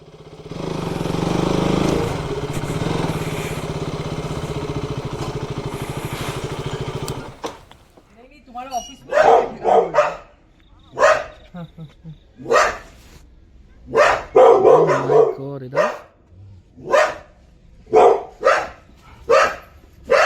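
German Shepherd and pitbull dogs barking in sharp, separate outbursts that come and go in an irregular rhythm, close and loud, after a stretch of steady engine-like noise at the start.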